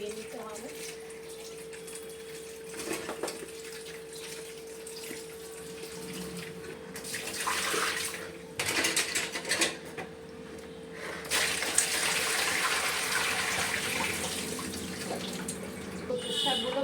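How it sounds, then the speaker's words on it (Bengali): Water runs steadily from a tap while taro (kochu) leaves are washed in a sink, with louder splashing bursts now and then as the leaves are handled, under a faint constant hum. "খুব ভালো করে কচুর শাকগুলো এরকমভাবে ভালোভাবে ধুয়ে নিতে হবে।"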